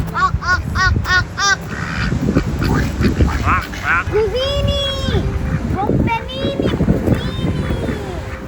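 Several geese honk repeatedly, loud and close, their harsh calls overlapping with people talking throughout.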